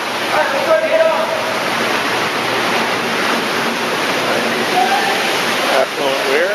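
Effluent water pours over the weirs at a treatment plant. The rush is loud, steady and broadband, like a waterfall, filling the whole stretch without a break.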